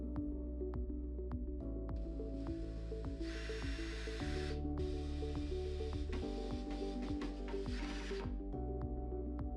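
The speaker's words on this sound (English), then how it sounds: "Fasten the slide triggers to the bottom of the frame using the 6 by 1/2 inch flat head screws." A powered screwdriver drives 6 by 1/2 inch flat head screws to fasten slide triggers to the bottom of a wood frame for a waste container, with steady motor whine in several bursts, close and uninterrupted by talk.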